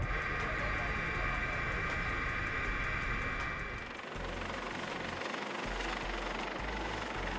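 Helicopter carrying maritime incident response crews out to a vessel during a large-scale exercise, its rotor and engine roar loud and steady throughout, shifting to a deeper throb partway through.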